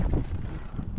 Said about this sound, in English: Super windy out here today